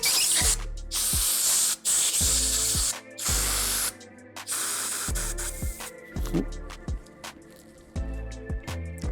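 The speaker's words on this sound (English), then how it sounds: "We've got to do the air compressor on the grips." Compressed air hisses in loud, repeated blasts to force grips onto the handlebars of a custom pro scooter build. The blasts are close and come in irregular bursts, some cut short, with scattered clicks and knocks of the parts in between.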